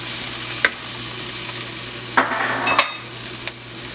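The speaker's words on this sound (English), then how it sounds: "So I'm going to add some fresh thyme to that and mix that in, get all those flavors in there." Fresh thyme is stirred into onions frying in a pan, a steady sizzle with a few scraping clacks of the spoon against the pan, and no talk.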